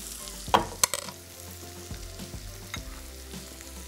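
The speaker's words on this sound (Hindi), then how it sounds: "और ये प्याज इसमें आ गई।" Roughly chopped onion sizzling in a frying pan, a close hiss broken by several sharp metal scrapes and clanks of a utensil against the pan, no voices.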